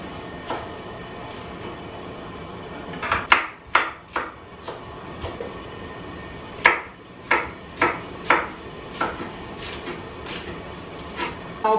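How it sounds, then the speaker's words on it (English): A knife chops bok choy on a cutting board in a home kitchen, leaving roughly a dozen sharp, separate thuds and cracks, some single and some in quick pairs, close and fairly loud over a quiet room. "I'm going to go ahead and cut my bok choy up"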